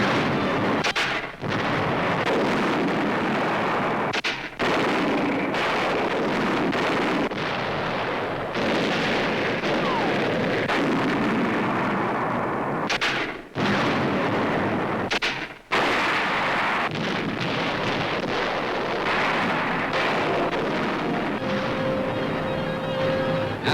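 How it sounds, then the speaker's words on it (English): American tanks and mortars firing on German hillside strongholds in 1944 wartime newsreel battle, a dense roar of booming blasts and gunfire that runs continuously, broken by a few sharp gaps, loud and close. "American tanks and mortars now blast German hillside strongholds in the center."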